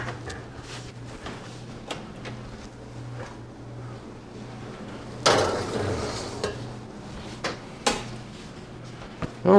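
A roast beef pan with vegetables goes back into a home oven: scattered light clinks and scrapes, then a louder burst of metallic clatter and rattle, followed by a few sharp knocks and a thud at the end.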